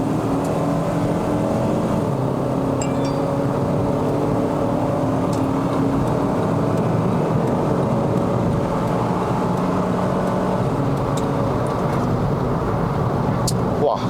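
A 2011 Honda Civic FD 2.0S pulls away under moderate throttle on a Malaysian road, its engine droning and rising steadily in pitch from inside the cabin, with continuous road noise.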